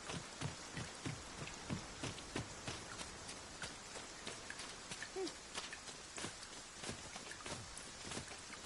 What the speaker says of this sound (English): Tis raining still.